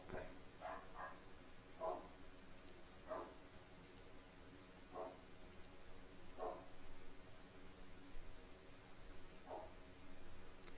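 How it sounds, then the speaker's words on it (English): A neighbor's dog barks repeatedly at a distance, faint sharp yaps spaced a second or two apart over low background noise. "And their neighbor's dog going bananas."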